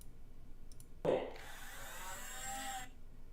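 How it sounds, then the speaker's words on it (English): A sharp click followed by a whirring, grinding toy blaster flywheel motor rev lasting about two seconds, rough and strained from unlubricated motors, then cutting off. "That is the sound of no lubrication on the motors."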